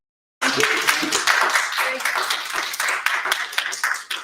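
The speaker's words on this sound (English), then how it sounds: "Let's go ahead and give Sister Barbara a round of applause" Audience applause at an evening gathering, starting abruptly and continuing as a dense, steady clatter of many hands throughout, with some voices mixed in.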